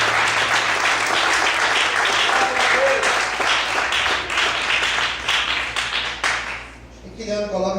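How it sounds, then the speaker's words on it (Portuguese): A church congregation applauds loudly, dense sustained clapping that fades near the end as a voice comes in. "Vamos aplaudir o Senhor bem forte."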